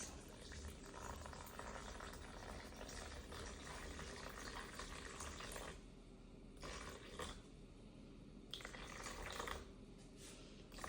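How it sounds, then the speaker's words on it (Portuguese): Warm water poured into a flour mixture for a sourdough starter, a faint, continuous trickling and splashing stream with a few short pauses, no voices. "e eu vou misturar a água."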